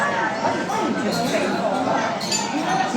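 Glasses clink together in a toast among friends at a celebration, bright chinks ringing out amid a steady background of chatter and crowd noise.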